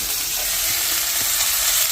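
Cumin seeds crackle and sizzle in hot oil in a kadhai already holding onion, a steady close frying hiss with faint pops throughout, no voices.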